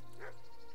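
A dog in the medieval video game Kingdom Come: Deliverance gives a brief mid-distance bark or yip over a steady hum of background game ambience.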